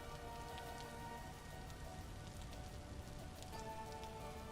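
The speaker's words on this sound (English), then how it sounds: "it's 10 a.m. and it's just raining." Rain in the video game Vintage Story, a steady dense patter of raindrops hitting surfaces with a faint hum underneath, continuous and fairly quiet, no talking.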